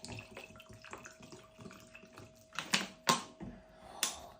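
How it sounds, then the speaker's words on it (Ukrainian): Aqua Karpaty bottled water poured for homemade lemonade, bubbling and fizzing with quiet irregular pops and clicks that grow into a few louder gurgling bursts near the end, close and alone. "Ого, які бульки пускає!"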